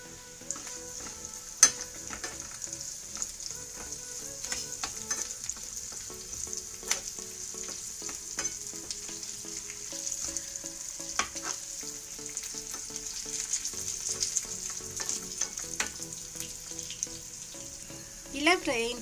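Tempering with salt and chili powder frying in a pan, a soft continuous sizzle with spoon stirs and scrapes throughout, fairly faint, a faint voice briefly near the end.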